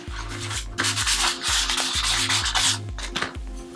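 Crayon or pigment rubbed firmly over thin cardboard to raise a rocky texture, a close, loud scratchy scraping in repeated back-and-forth strokes with a low rhythmic thump under each pass.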